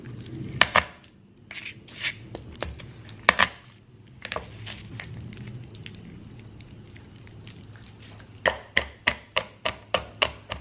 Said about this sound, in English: for now I'm just gonna mince it